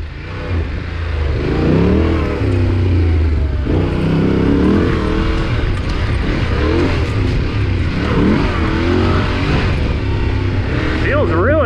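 Yamaha Tenere 700 adventure motorcycle ridden off-road on dirt trails, engine loud and close throughout, rising and falling as the rider revs through the throttle, with a rider's voice heard over the engine.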